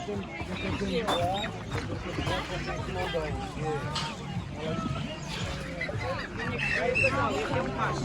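Roosters and other fowl cluck and honk at a Sunday poultry market in Lisbon, Portugal, with many overlapping calls over crowd chatter and nearby talking voices.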